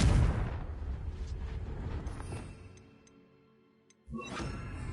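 A Confringo explosive spell goes off in a Harry Potter video game, a deep rumbling blast that fades over a few seconds into near silence, with faint ticks before a second dull boom rises.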